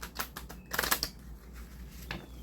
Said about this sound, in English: I'm going to continue with the shuffle